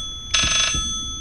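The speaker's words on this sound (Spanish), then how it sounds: "Teléfono antiguo." An old telephone rings once in the horror video game Layers of Fear, a short, bright electronic trill lasting about a third of a second, followed by a few soft low knocks.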